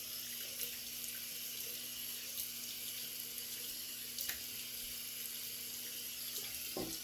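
Cold tap water runs into a bathroom sink with a steady soft hiss and splash, faint and continuous, with occasional small knocks and no talking.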